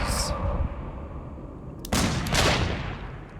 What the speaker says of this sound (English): Why are you who's shooting who? Why are you shooting?